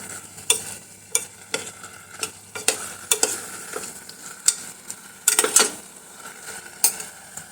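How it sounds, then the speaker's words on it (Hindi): A spoon scrapes and clanks repeatedly against the metal sides of a pressure cooker while soaked rice and vegetables for veg pulao are stirred, producing irregular close clinks and soft sizzling, without voices. "अब इसको अच्छे से मिक्स कर लेना है।"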